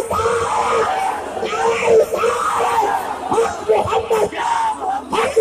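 A crowd at a religious gathering shouts a slogan in loud rhythmic unison, with repeated collective yells and chants rising and falling.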